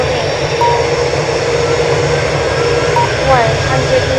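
Airliner jet engines roar loudly and continuously during a takeoff roll on runway 09 at Miami International Airport, a dense broadband rush with a voice faintly present.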